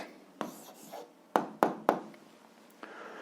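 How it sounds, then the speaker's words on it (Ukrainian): Pen writing an algebra answer on paper: a few short scratchy strokes and taps, close and quiet, spaced irregularly with pauses between, alone without speech. "записуємо відповідь, пишемо відповідь"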